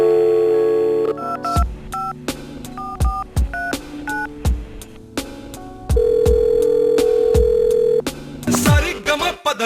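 A telephone number is dialed on a landline: a steady dial tone gives way to a quick series of separate keypad tones, then a long held tone and more beeps, loud and close.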